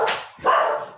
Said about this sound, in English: The dogs have seen something, ignore them.